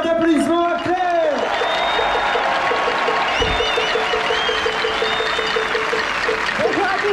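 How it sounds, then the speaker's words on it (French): A crowd at an outdoor rally against the health pass on Place Vauban applauds in a steady, dense wash, with voices calling out over it from start to finish. "Je vous prie de lui faire un tonnerre d'applaudissements à Claire"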